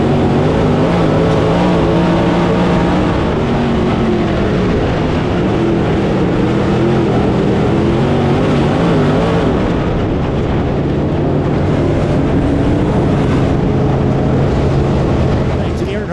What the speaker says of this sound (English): And we are back racing.